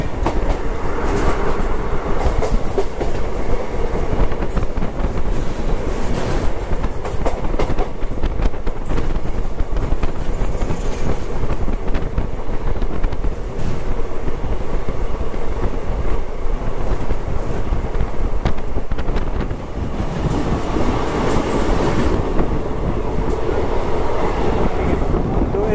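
Gujarat SF Express on the Ahmedabad–Mumbai Central route, hauled by a WAP-7 electric locomotive, heard from inside a second-class coach: a loud, steady rumble of wheels on rail with clattering joints and wind noise throughout.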